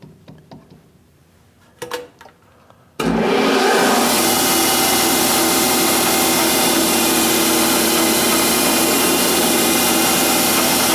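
A metal lathe with a carbide tool cuts stock while making a split-cylinder edge finder, starting with a few clunks and then settling into a loud, steady whirring drone that fills the rest of the clip.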